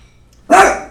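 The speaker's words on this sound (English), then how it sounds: "I'm not sure what he's barking at." A single sharp, loud bark from a dog indoors, one short close burst after near silence.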